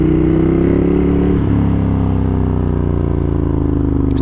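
Loud, steady engine drone of a 2015 Ducati Monster 1200S motorcycle being ridden, the deep rumble holding close and continuous throughout with a slight dip in pitch midway.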